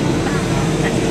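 Steady, loud airplane cabin engine roar as an airliner descends to land on a trip to Denmark, a continuous broadband drone with no breaks.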